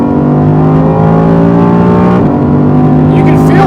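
Audi R8 GT with its V10 engine accelerating at full throttle on a short straight, a loud rising engine howl heard from inside, a drop at the gear shift, then climbing again.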